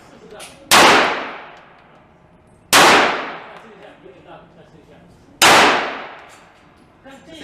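Three loud, sharp gunshots at an outdoor gun range, evenly spaced about two seconds apart, each a close, cracking report with a ringing tail that fades before the next shot.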